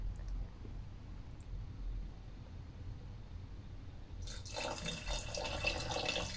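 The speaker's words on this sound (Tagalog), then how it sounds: "Nag-add na ako ng tubig" Near-silence with faint drips gives way to a sudden rush of water poured into a pot for kumquat marmalade, the splashing hiss continuing to the end.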